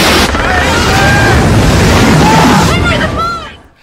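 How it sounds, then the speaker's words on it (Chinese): Huge tsunami waves crash in during a dramatized disaster scene: a loud, continuous roaring rush of water and wind fills the whole stretch, with faint tonal cries over the top before it fades at the end. "巨大的海浪一瞬间铺天盖地卷来"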